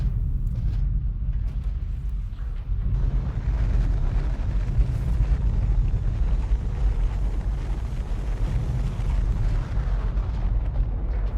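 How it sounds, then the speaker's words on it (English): Laser turrets firing in a factory-building video game, a dense continuous roar of overlapping blasts that swells after the first few seconds and stays loud and steady throughout, with no talking. "Yeah, I have laser turrets in here I can bring."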